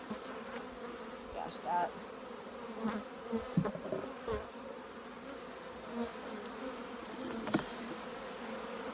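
Honeybees swarm in a steady, agitated buzz around an opened hive as frames are moved for combining hives before winter. Someone speaks briefly over the drone, and faint handling knocks come through.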